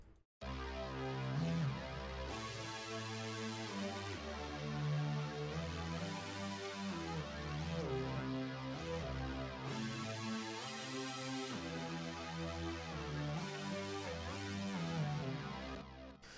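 A thick, gritty synthesizer lead carries a melody over a steady low bass line, full and saturated throughout, with no one speaking.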